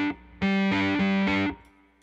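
Violin run through a Bunnel heavy metal distortion pedal: a loud, gritty sustained phrase of a few bowed notes with thick distorted overtones, then a quick fade.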